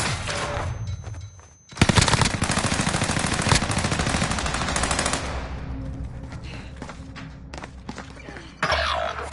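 Rapid automatic gunfire in a military shooter video game, a loud sustained burst of close shots for several seconds, then a brief pause and another burst, with faint game voices before it.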